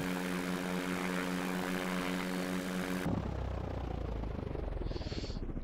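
A light aircraft's propeller engine drones steadily and loudly in flight for about three seconds, then cuts abruptly to the rushing wind of a glide.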